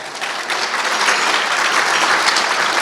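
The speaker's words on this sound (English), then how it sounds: "How about a big round of applause for that?" Dense, loud audience applause at a Muslim Welfare Centre annual dinner gala, a steady wash of many hands clapping throughout with no voices above it.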